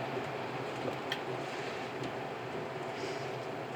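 A steady, broadband whoosh of a kitchen vent fan running continuously at moderate volume over a stove during strawberry canning, with no other distinct sounds.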